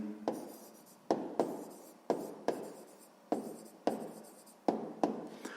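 Sixth-grade math working written out by hand, a series of seven or eight quick pen strokes on paper, each opening with a crisp tap and fading scratch, steady and close, soft and without any voices.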